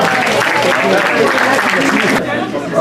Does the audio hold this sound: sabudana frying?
no